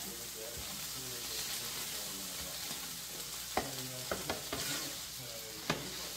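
Tomatoes and red onion sizzle in a pan, a steady soft frying hiss broken by occasional stirring scrapes and taps, with a voice speaking faintly over the cooking.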